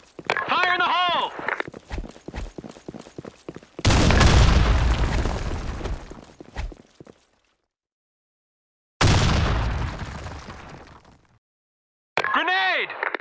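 Grenade blast in a video game, two loud broadband bursts each a few seconds long with a decaying tail, separated by silence, along with footsteps and game voice lines at the start and end.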